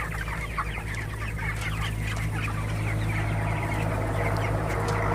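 Broiler chickens, 27 days old and hit by a kidney problem, cluck steadily throughout a crowded farm shed, a dense continuous chorus of many birds over a constant low mechanical hum.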